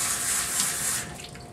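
Water pours and splashes from a tap as soap is rinsed off a dog during a bath, a steady close gush that eases off slightly toward the end. No talking.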